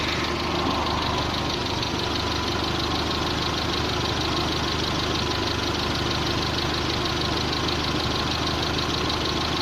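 Nissan Bluebird engine idling after a head gasket failure, with silt still in the cooling system; a steady, close, continuous idle running unchanged throughout with no talk over it.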